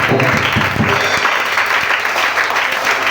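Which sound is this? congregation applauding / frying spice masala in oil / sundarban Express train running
congregation applauding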